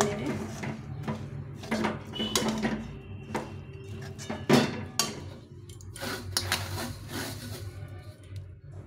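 A spoon scrapes and clatters against a pan while roasted sesame and peanuts are stirred together, the irregular clinks close and moderately loud, with a voice speaking in between.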